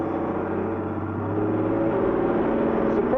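A Bedford TM 4x4 military truck pulls away in first gear with a steady, droning engine hum heard from the cab that rises slowly in pitch.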